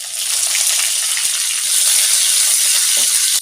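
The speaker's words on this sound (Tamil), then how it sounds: "கடுகு சீரகம் பொரியுது" Mustard and cumin seeds crackle and spit continuously in hot oil with small sharp pops scattered through it, close up and fairly loud, with no voices.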